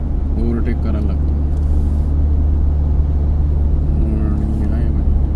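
A Force Gurkha 5-door SUV (BS 6.2) drives and overtakes in power mode on a road trip, its steady engine and road rumble loud and constant beneath voices talking inside the cabin.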